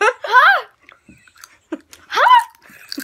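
Crunchy chewing of Doritos tortilla chips close up, bursts of munching between girls' giggles and excited voices during a chip-tasting challenge.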